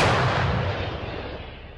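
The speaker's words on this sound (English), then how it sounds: "maneuver this 155 caliber German howitzer to its firing position" A German 155 mm howitzer fires near Bakhmut: one loud, close boom right at the start, then a long rumbling reverberation that slowly fades over about two seconds.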